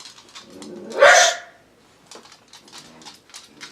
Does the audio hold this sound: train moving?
no